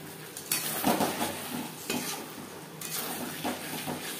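Chicken liver and stomach curry being stirred in a pan, a spoon clattering and scraping in repeated strokes over a soft sizzle, close and steady, with no voices.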